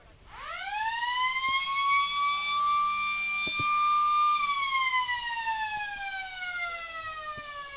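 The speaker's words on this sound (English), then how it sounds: "As the siren goes for half-time" Half-time siren at an Australian rules football match wails out loud and sustained, rising quickly, holding steady for several seconds, then slowly dropping in pitch as it fades, with faint crowd noise beneath.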